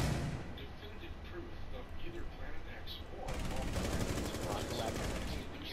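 Gunfire in the video game Rainbow Six Siege: a dense, loud stretch of rapid shots fills the second half, with voices talking over the game.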